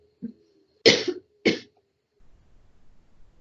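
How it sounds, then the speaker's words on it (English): A person coughs in one small burst, then two sharper coughs, close to the microphone, after which there is quiet low-level background noise. "excuse me, y'all, I'm coughing"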